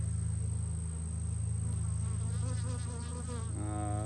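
Bees buzz at an apiary, a close, continuous insect drone with wavering pitch over a steady low hum, with no talk.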